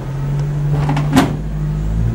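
An oven door shuts with a single firm clunk after a tape cake goes inside, set against a steady appliance hum that runs through the clip.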